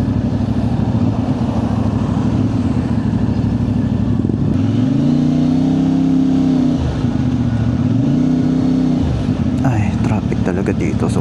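A CFMoto 450MT adventure motorcycle on a road ride: a mid-pitched engine drones and twice swells in revving surges, with a voice talking over it throughout.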